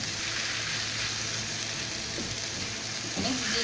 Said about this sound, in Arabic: المشروم بتاعنا تشويحه كده